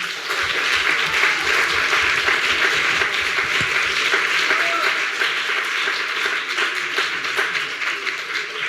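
Audience applause at the close of an evening talk for the final speaker: a roomful of people clap steadily and densely for several seconds, the sound even and moderately loud with individual claps blurring together.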